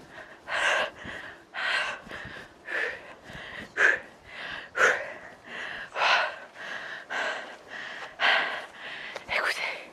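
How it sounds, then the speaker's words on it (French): Heavy, rhythmic panting after fast beginner HIIT exercise, with about a dozen breathy gasping exhalations close to the microphone in an even cycle and no clear speech. "Écoutez, ma respiration. Vous voyez ma respiration? Elle est haletante."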